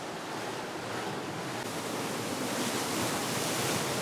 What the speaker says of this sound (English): there's all these cool tide pools and these raging waves